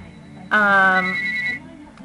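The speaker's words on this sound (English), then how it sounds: "Let's see, that's the phone." A telephone rings once indoors with a loud, bright electronic trill that lasts about a second and then cuts off. Quiet room tone surrounds it.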